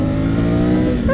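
A Triumph Tiger 900 GT motorcycle engine, 2024 model, revs hard and close, a loud, steady harmonic drone that climbs sharply at the very end.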